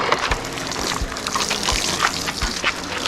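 Hydroponics water poured over tulips in a front-yard homestead garden, a steady close splashing and gushing with rhythmic low thumps, no talk.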